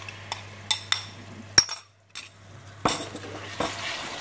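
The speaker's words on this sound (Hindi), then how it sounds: "अब इसमें ये टमाटो पेस्ट डालते हैं।" Spoon clinks and scrapes in a cooking pan as tomato paste goes onto browned onions, with sharp metallic taps and stirring scrapes up close and a brief pause midway, a faint low hum underneath.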